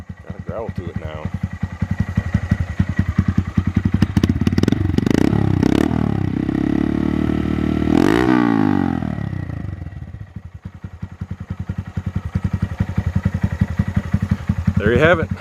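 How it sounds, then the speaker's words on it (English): A 2019 Honda Monkey motorcycle with a TB Parts stainless performance exhaust idles with a throaty, rapid putter. It revs up and falls back close by, then settles to idle again. "TB Parts stainless performance exhaust on a 2019 Honda Monkey"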